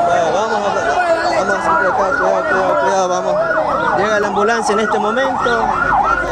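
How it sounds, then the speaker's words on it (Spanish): An ambulance siren wails loudly and steadily as the vehicle arrives at a shooting scene at a market in La Libertad, Santa Elena, with people calling out briefly over it. "Llega la ambulancia en este momento"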